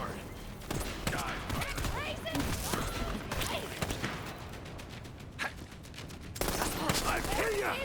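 Rapid gunfire and weapon bursts in the video game Borderlands 3, dense repeated shots with whooshes and thuds filling most of the stretch, loud and close, with game character voices mixed in.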